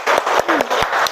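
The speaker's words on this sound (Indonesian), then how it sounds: "Tepuk tangan dulu." Classroom applause after a group performance, a close, loud burst of clapping with distinct individual claps in an uneven rhythm and a brief voice mixed in.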